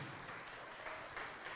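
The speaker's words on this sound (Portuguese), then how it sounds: "Vamos aplaudir mais ao nome de Jesus, igreja." Church congregation applauding during a worship service, a steady broadband wash of clapping held at an even level throughout, fairly distant and without clear talk over it.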